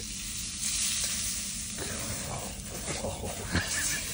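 Copperhead snake meat sizzles steadily and close by over a fire, a dense crackling hiss with occasional sharper pops and some stirring noises.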